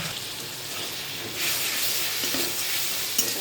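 Close, steady sizzling hiss of spices frying in a pan, swelling suddenly louder partway through as a splash of water hits the heat.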